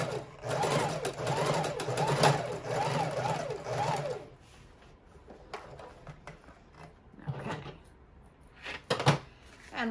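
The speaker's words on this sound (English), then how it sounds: "I'm going to cheat and do it by the sewing machine." A sewing machine stitches a fabric file-folder book cover in a steady, close, rhythmic burst for about four seconds, then stops, leaving quiet handling noises and a few soft knocks.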